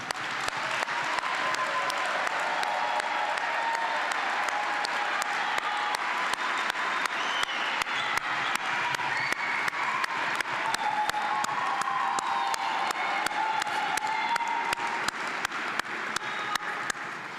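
Audience at a computer science diploma ceremony applauding the graduates as they stand, a sustained, dense wave of clapping from a large crowd that holds steady for well over fifteen seconds with scattered cheers mixed in.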